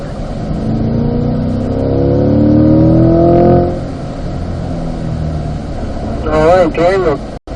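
Sports car on the Spring Mountain race track accelerating hard through the gears, a loud engine pitch climbing then dropping at a shift, followed by a steadier drone and a brief sharp squeal-like burst near the end.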